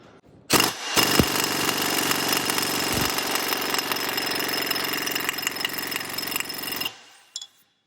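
A Snap-on MG325 air impact wrench hammers in one continuous loud burst of about six seconds, a dense rapid rattle close up, then stops abruptly with a short hiss of air.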